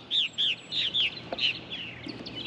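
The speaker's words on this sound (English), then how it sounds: "So they have a very healthy purple martin population here." Purple martins calling at Rocky Point Campground on Wright Patman Lake: a series of short, bright, rising chirps and warbles repeating every half second or so, fairly close, over a faint outdoor background.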